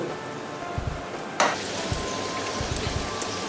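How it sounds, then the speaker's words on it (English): Chicken gizzards frying in a pan for Nigerian gizdodo, a steady close sizzle with soft crackles and one sharper spatter. "The chicken gizzard has been frying for about 3 minutes."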